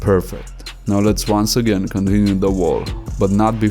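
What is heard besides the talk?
No everyday noise stands out behind the speech.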